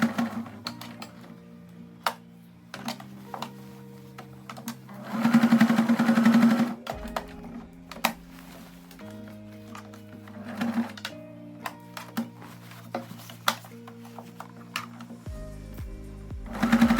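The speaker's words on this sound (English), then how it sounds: "I'm going to box stitch around this hole" An electric sewing machine box stitches around a hole in skirt fabric, its needle clattering in a fast, steady rhythm through repeated runs that start and stop, with brief pauses and small clicks between passes.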